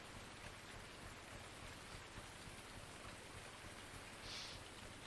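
Rain in the Farming Simulator 19 video game, turned down, forms a steady, even hiss of falling drops, quiet and unbroken, with no voices.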